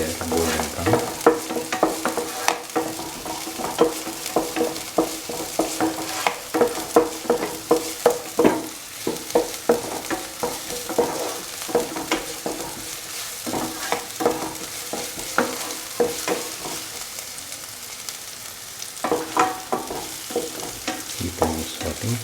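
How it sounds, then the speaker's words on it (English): Garlic and shallots sauté in a pan for vegan dal fry, a constant sizzle overlaid by steady, rhythmic scraping strokes of a spatula that continue close and fairly loud throughout. "mix the garlic and the shallots. Golden brown."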